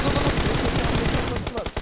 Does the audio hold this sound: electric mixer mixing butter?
no